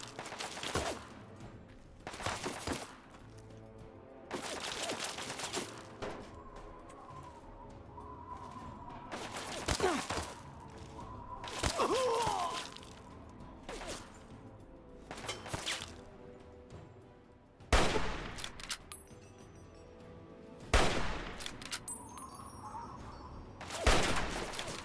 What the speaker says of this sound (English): 9mm submachine gun.